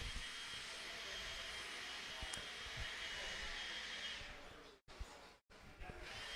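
Leaf blower running at an off-road RC raceway, a steady loud roaring whoosh that drops away toward the end with a couple of abrupt cutouts.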